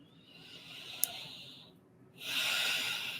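Someone breathes slowly during EFT tapping, a soft, airy inhale followed after a brief pause by a longer, louder exhale. The sound is close and fairly quiet, with no talk.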